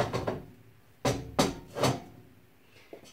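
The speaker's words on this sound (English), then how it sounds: "We'll remove the top grates here." Heavy cast grates are lifted off a KitchenAid gas range, giving three sharp, close metallic clunks spaced about half a second apart after some softer handling noise, with no talking.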